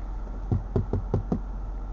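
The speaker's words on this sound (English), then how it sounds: "Knock on your window." Five quick knocks tap on a window in an uneven rhythm, close by, over a low background hum.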